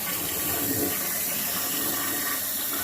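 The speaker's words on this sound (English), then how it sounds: "we'll come back and we'll go ahead and give her a flush" A toilet flushes after a fill tube repair, a loud continuous rush and swirl of water filling the space from start to end, close by.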